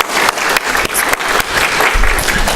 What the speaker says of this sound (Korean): 자, 큰 박수로 우리 격려 환영했으면 좋겠습니다.